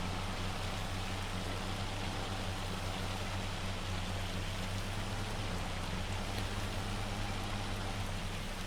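Heavy hail in Farming Simulator 25 keeps up a steady, dense hiss and patter at constant loudness throughout, with a low droning hum beneath it and no voices.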